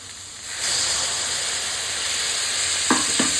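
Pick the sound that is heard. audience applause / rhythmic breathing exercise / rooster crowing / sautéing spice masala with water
sautéing spice masala with water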